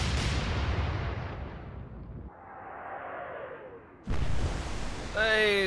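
Heavy warship guns firing in Atlantic Fleet, a booming salvo that decays into a long rumble, a faint shell whistle, then another loud blast followed by a quick ringing metallic clatter.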